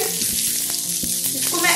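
A chicken burger patty fries in a pan, pressed at its edges to brown them, giving a steady close sizzle with soft tonal background sound underneath throughout.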